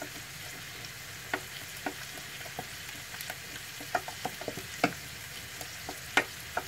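Lasagne sauce cooks in a pan, with a steady soft sizzle throughout and a spoon giving occasional light scrapes and taps as it stirs the mixture smooth.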